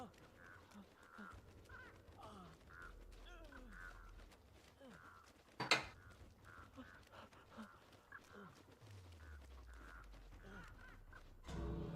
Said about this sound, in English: you know it's bad when you got 3 crows on you